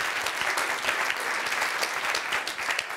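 A comedy show audience applauds a German stand-up comedian; the clapping is dense and continuous, moderately loud, with a few sharper individual claps standing out throughout.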